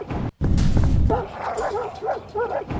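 Dogs bark behind a chain fence, a quick run of repeated yapping barks in steady rhythm, fairly close and loud over a busy background.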